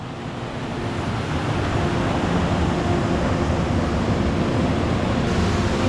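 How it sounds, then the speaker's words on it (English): Steady broadband rush of creek water flowing at a rainforest creek crossing in Daintree National Park, continuous and fairly loud, with no voices. "Just made it to our second creek crossing."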